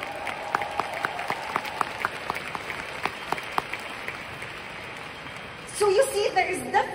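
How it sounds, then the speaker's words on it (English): An audience claps for a speaker at a motivational course session, a moderate spread of distinct claps through the first seconds that thins and fades, before a voice briefly comes in near the end. "Can we give Ray a round of applause today"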